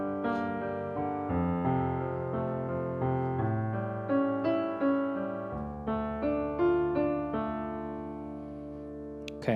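Solo piano plays a slow passage of a song, sustained chords with a bass line, each new chord struck at a steady, gentle pace and rung out clearly, with no talking.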